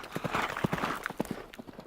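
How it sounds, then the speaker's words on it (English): A runaway horse pulling a buggy clatters off in an audiobook sound effect, uneven hoofbeats knocking in a rapid, irregular rhythm, fairly close and alone without speech. "a frantic whinny from Emil's horse outside, followed at once by a clatter which told of a frenzied runaway"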